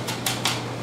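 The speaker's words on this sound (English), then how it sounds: "you keep chopping and eventually you get a paste" A knife chopping onion, tomato and zucchini on a cutting board for a gratin, with two or three sharp, evenly spaced knocks over a faint steady hum in a cooking class.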